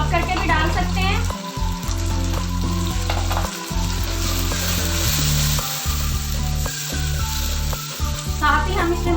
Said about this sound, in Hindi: और इसमें अब हम ये 3 टमाटरों का पेस्ट शामिल कर रहे हैं।